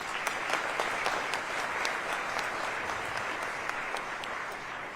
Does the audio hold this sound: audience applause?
yes